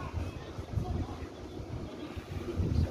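Strong wind at the top of Tanjong Rhu Tower in Singapore buffets the microphone in continuous low gusty rumbles, with a voice speaking faintly beneath.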